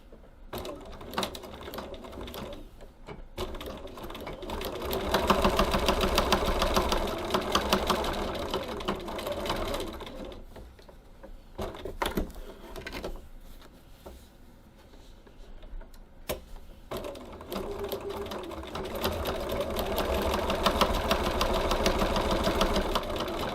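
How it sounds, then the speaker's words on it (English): Sewing machine stitching down the strap tabs on a fabric satchel, a close rapid mechanical whir in several runs with short pauses between seams. "Now we need to stitch our strap tabs. We're just stitching down each side."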